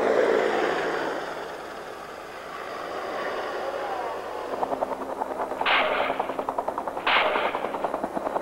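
Door-mounted machine gun on a Huey helicopter firing in rapid bursts. Dense, steady rattling dominates the second half and rises over a rotor and engine rumble that fills the opening seconds.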